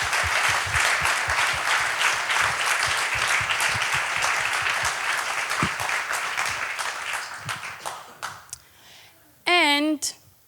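An audience at the MyData 2019 opening day ceremony applauds the MyData Global core team, a dense, steady clapping that fades out over several seconds before a voice speaks at the end.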